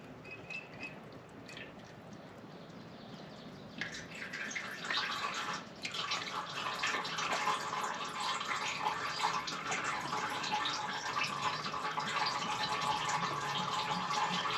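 Liquid poured into a part of a Detroit Diesel 4-71 engine on a Dynahoe 200-4 backhoe: a thin trickle and drips at first, then a fuller splashing pour that runs steadily to the end, with no voices.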